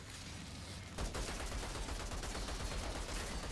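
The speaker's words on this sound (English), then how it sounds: "I'm just mindlessly shooting these guys now" Sustained gunfire from the video game Outriders starts abruptly after a moment of quieter background and keeps going as a dense, rapid stream of shots to the end.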